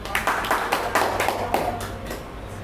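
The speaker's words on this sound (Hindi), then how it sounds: "ज़बरदस्त तालियां होनी चाहिए" Applause from an audience at a business training event, a scattered run of individual claps coming in uneven bursts, fairly close and moderately loud, with no talking over it.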